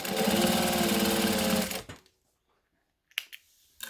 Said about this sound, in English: So I'm going to stitch along the edges.